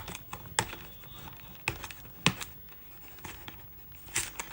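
Royce chocolate packaging being torn and worked open by hand, with sharp crinkling rips and several distinct tearing bursts amid softer rustling, close and fairly quiet, no voices.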